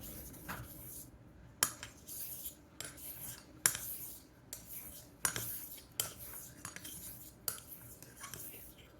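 Vintage American straight razor honed on a stone, a steady series of soft scraping strokes about once a second, each ending in a sharper click as the blade flips, close and fairly quiet.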